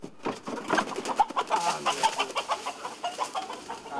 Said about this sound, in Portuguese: Entre as 16 aves está o galo índio